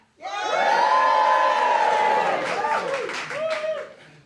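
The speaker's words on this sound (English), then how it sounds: "give us a cheer" A studio audience erupts into a loud sustained cheer with whoops and shrieks that swells quickly, holds for a couple of seconds, then breaks into scattered yells and fades.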